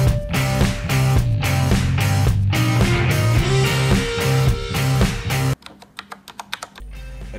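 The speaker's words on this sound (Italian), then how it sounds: "Come avete sentito è una tastiera meccanica" Fast, steady typing on a Roccat Ryos MK Pro mechanical gaming keyboard, a loud dense rattle of clacking keys close up, ending in a few sparser separate keystrokes.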